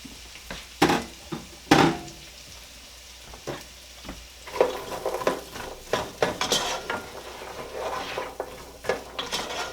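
Onion, carrots and celery cooking in a pot for chicken noodle soup, with a low sizzle and irregular sharp clacks and scrapes of a spoon stirring against the pot, nearby and without voices.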